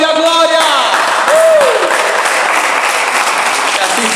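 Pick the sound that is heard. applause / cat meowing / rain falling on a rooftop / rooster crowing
applause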